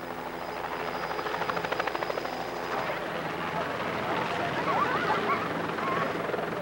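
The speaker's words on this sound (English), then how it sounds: "American helicopters arrived unannounced in Phnom Penh." American helicopters over Phnom Penh, Cambodia, give a loud, close, continuous engine roar with a rhythmic rotor chop.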